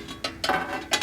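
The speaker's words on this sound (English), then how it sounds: "we're going to put the pan in," A metal pan slides into a Comco printing press, producing a few close, short mechanical clicks and ratcheting clatters over about a second, with light scraping between them.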